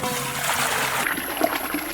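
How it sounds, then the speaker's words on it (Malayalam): Water is poured into a cooking pot set on a fire, giving a soft, close trickling and splashing that shifts in tone partway through. "വെള്ളം ഒഴിച്ചു കൊടുക്കാം"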